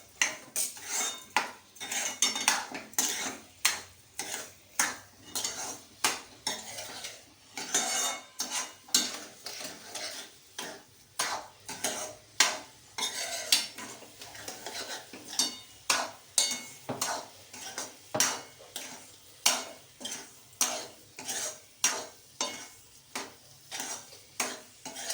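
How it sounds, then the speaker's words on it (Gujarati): Semolina shiro with milk, sugar and dry fruit being stirred in a pan: a long run of rhythmic scraping strokes from a spoon against the metal, close and moderately loud over a soft sizzle, with no speech. "આપણી ખાંડ ઓગળી જાય ત્યાં લગી આપણે એને હલાવવાનો છે"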